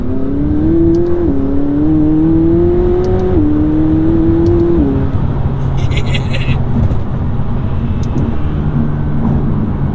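A McLaren 720 supercar engine drones and revs from inside the cabin, with rising and falling pitch as the car accelerates and shifts, loud and steady throughout.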